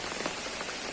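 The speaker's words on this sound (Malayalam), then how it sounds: "ഇന്നിപ്പോൾ തവണ രാവിലെ തൊട്ട് തന്നെ നല്ല മഴ ഇങ്ങനെ പെയ്തുകൊണ്ടിരിക്കുകയാണ്" Heavy morning rain on a rainy day, a dense steady hiss of drops pattering on surfaces, close and continuous with no talk.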